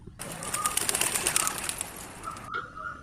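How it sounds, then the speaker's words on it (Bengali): Pigeons and bats in an old building flutter and flap as they fly out, a burst of dense wing beats and rustling that fades, followed by a faint tone after a brief pause. "বাদুর পায়রাগুলো ঝটপট করতে করতে"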